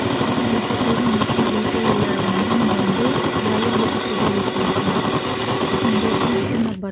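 An electric mixer beats room-temperature butter for coconut cookies, giving a steady, loud mechanical whir that runs unbroken and close up with no talking, then cuts off at the very end.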